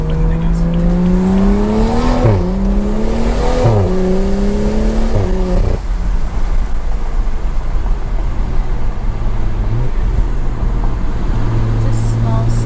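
A stage 2+ BMW 335i accelerates hard with the window down. Engine revs climb in sweeping rises and drop sharply at each gear shift. Wind and road roar grow loud, with a brief voice partway through.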